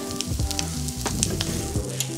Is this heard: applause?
no